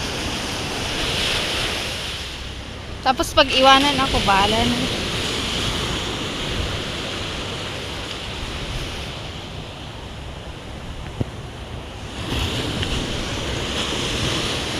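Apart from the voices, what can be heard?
ocean waves on a beach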